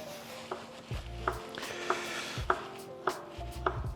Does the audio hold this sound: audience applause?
no